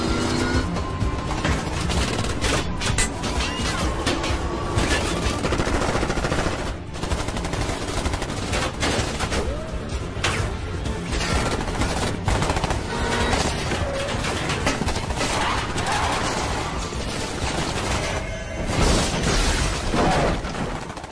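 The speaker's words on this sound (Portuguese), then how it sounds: "Podem atirar." Gunfire in a dubbed science fiction film, with rapid repeated shots and booming blasts layered over a dense, loud action soundtrack that runs continuously.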